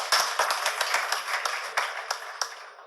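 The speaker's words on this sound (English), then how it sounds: "now you can clap" Audience clapping after a talk about a crypto exchange, a sparse, uneven run of individual claps from a small crowd, fairly close and fading toward the end.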